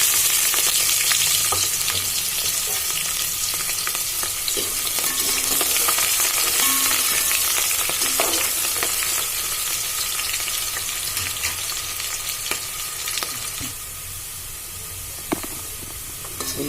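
Chopped onions and green chillies frying in hot oil for chicken biryani, a loud steady sizzle and crackle that holds close and continuous throughout with small pops.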